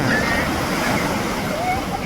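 Ocean surf rolls and washes steadily along an Irish beach where a dog rides the waves, a continuous broad hiss with faint whistles over it and people talking softly nearby.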